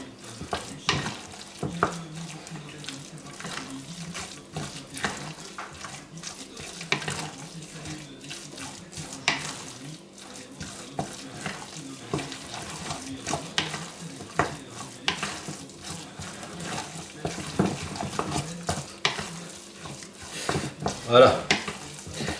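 Terrine de campagne mixture being stirred and mixed by hand in a bowl, a steady run of wet squelches and scrapes with clinks, close and moderately loud, with brief talk.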